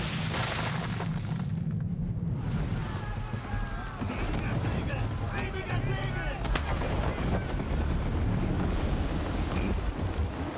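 Strong wind roars at sea during a naval battle in Assassin's Creed III, a loud, constant rushing gust over crashing waves and creaking ship sounds, with distant gunfire and voices talking throughout.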